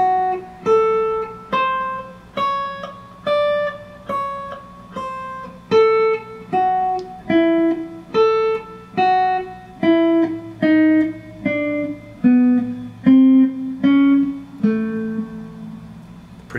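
A slow country lick in the style of a Fender pedal steel rings out as a measured run of about twenty separate plucked notes, each sustaining briefly, with a few bending and sliding downward toward the end, played alone without talk.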